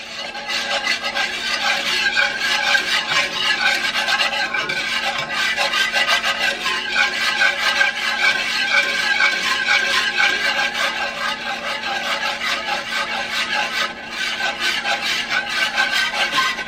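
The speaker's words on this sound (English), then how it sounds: "I do like to switch to a whisk at this part." A whisk stirs liquid into a sauce in a pan with a continuous close scraping, rasping rhythm, steady and unbroken throughout with no talking.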